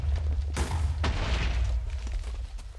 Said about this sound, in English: the C4 gives a much bigger explosion than the your TNT